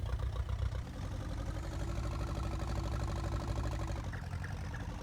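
A small tractor's engine in Farming Simulator 19, a low rumbling idle with rapid knocking pulses, held steady and faint for several seconds.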